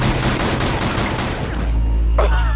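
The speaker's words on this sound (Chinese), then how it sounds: "而老黑也在混战之中被短发姐的手下开枪命中。" Gunfire from a shootout in an action movie: a dense volley of shots cracks in quick succession, then gives way to a heavy low boom.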